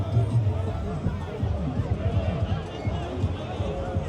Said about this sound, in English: Massive crowd for Ibrahim Traore premiere this evening at the Hughesbeck Hotel here in Sunyani.